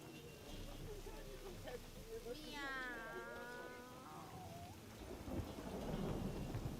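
Steady rain and rumbling thunder of a storm in The Witcher 3 fill the scene, with a rising, wavering tonal cry in the middle and a person speaking over the downpour.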